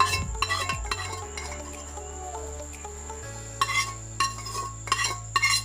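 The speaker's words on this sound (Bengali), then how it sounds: "আর আমি এখন প্রেশার কুকারটা ধুয়ে আনবো" Metal clinks and scraping knocks ring out intermittently as a pressure cooker is handled and washed, over a steady low hum.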